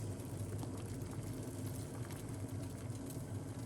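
A lemon and parsley detox drink boils in a pot, giving a steady, dense bubbling hiss that holds evenly from start to finish with no voices.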